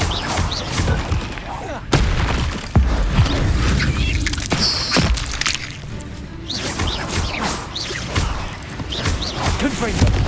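Confringo fire-spell blasts in the game Hogwarts Legacy, several sharp booming impacts at irregular intervals amid combat clatter, with some talk mixed in.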